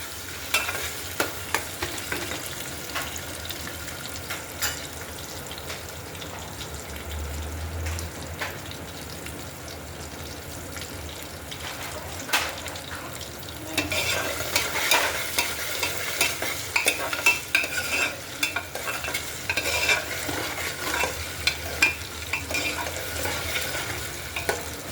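Peanuts being sautéed in a pan for farali khichdi with curry leaves and potatoes, a steady low sizzle with occasional stirring scrapes and clinks, moderately quiet and continuous throughout.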